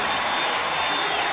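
A ballpark crowd at a San Francisco baseball game applauding and cheering a young player's first hit, a steady, broad roar of clapping throughout.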